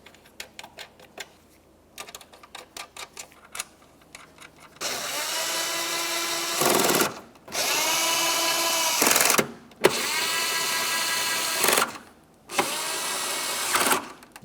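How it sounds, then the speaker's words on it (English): Power tool running down 8mm mounting nuts on a 2006-2011 Honda Civic outer tail light: a quick ratcheting clicks first, then four loud, close whirring bursts of several seconds each with brief gaps between. "we'll continue on with all 4 of our 8mm mounting nuts. Start each of them on and then snug them up."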